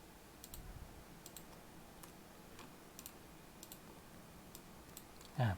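Faint, sparse clicks of typing on a computer keyboard, irregular single keystrokes spread over several seconds against a soft background hiss, ending with a short louder voice.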